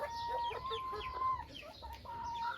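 Chickens in a remote Thai village in rural Sisaket cluck and chatter close by, a busy run of short overlapping calls with a higher cackle or two, without any speech.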